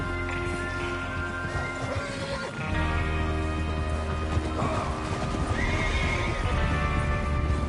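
Several horses whinny and snort over steady clip-clopping hooves in a Red Dead video game, with a continuous low musical drone underneath; loud and busy throughout.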